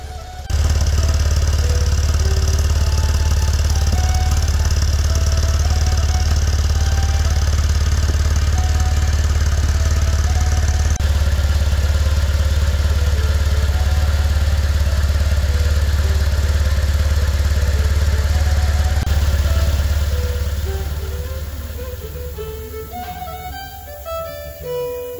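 A BMW R1150 motorcycle engine runs on a dynamometer with a loud, steady drone and mechanical clatter for most of the run. Near the end it eases off and the sound drops.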